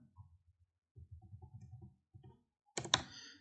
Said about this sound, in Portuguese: E agora sim, teclar Enter.